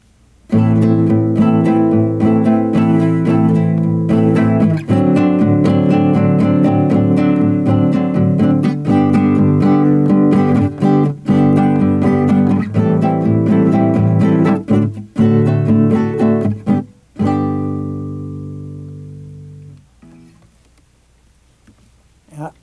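Acoustic jazz guitar strums a repeating syncopated two-bar chord rhythm (3-3-2 then 2-3-3) in a steady pattern, full and close, ending with a ringing final chord that fades out.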